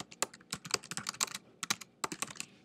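Quick, close keystrokes clatter on a computer keyboard as a response is typed, in uneven bursts with one short pause, and no talk.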